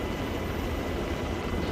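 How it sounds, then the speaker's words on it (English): Helicopter rotor and engine in the military game Arma 3, a steady dense drone that fills the whole clip at close range with no break or change. "I feel so much safer being in this chopper."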